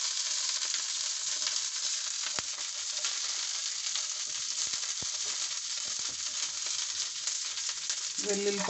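Garlic frying in oil for a raw banana and yogurt chutney gives a steady, close sizzle across the whole stretch, with a few sharp clicks of a spoon stirring the pan.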